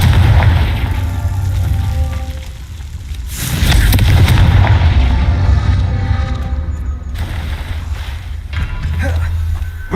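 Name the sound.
Confringo blasting curse explosion in video game Hogwarts Legacy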